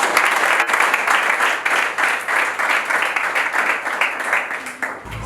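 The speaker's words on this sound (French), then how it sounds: "Est-ce que vous pouvez d'abord applaudir pour maman chef secteur?" Audience applause at a school inauguration in Luilu sector, Lualaba, a crowd clapping steadily and loudly in dense rhythmic bursts that fade briefly near the end.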